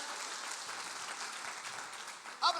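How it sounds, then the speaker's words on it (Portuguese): A church congregation claps for the Lord after a Portuguese sermon, giving dense, sustained applause at moderate distance, with a faint voice rising near the end. "As palmas para o Senhor, creia nisso."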